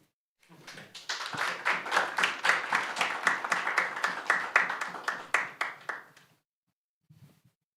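Council meeting audience applauding two newly elected lay auditors: sustained mid-level clapping from many hands for about six seconds, then stopping abruptly, followed by a brief faint rustle.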